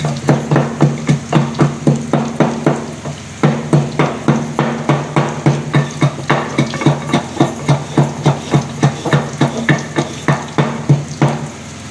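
Roasted fish masala spices are pounded coarsely in a mortar: a loud, close, steady run of dull thuds about three per second, with one short pause early on.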